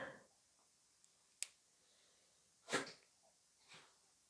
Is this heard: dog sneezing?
yes